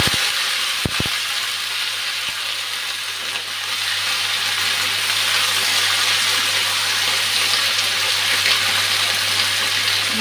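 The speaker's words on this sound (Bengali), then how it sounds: "তেলটা গরম হয়ে গেছে, দিয়ে দিচ্ছি সবজিগুলা।" Mixed vegetables hit hot oil and fry with a loud, steady sizzling hiss that runs unbroken throughout, after a few sharp clanks near the start.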